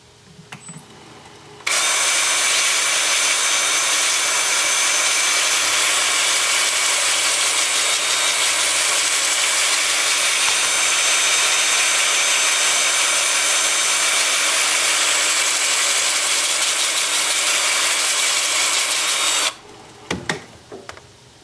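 A power sander with an 80 grit two-inch disc works a wood-turned bowl, a loud continuous whirring grind that starts abruptly, runs steadily for about eighteen seconds, then cuts off.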